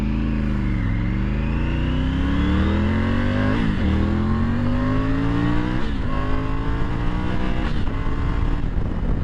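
A 2023 Triumph Tiger 900 GT Low motorcycle revs hard at full throttle, engine pitch climbing steadily with brief dips at each gear change, loud and close throughout with no talking.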